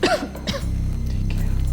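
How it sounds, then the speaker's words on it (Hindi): A short cough and throat clearing, close and fairly sharp, are followed by a low buzzing hum. "फिक्र मत कीजिए, मामूली खांसी है"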